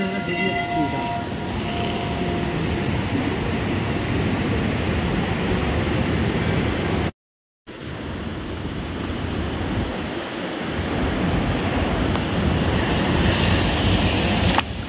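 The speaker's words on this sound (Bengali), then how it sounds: "জলের স্রোতটা দেখাচ্ছে, কি সুন্দর পরিষ্কার" Clear, clean stream of water flowing steadily over stones outdoors, a continuous broadband rushing and splashing that stays loud and close for the whole stretch, with a brief dropout midway.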